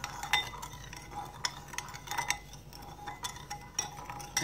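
Milk being stirred into sugar in a bowl for chin chin dough, with a spoon clinking and scraping against the bowl in irregular close strokes, no talk.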